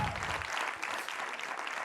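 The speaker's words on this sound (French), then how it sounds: "je pense qu'on peut l'applaudir" Sustained applause from a plenary audience at a gathering, steady dense clapping throughout, fairly distant and moderate in level, with no voices over it.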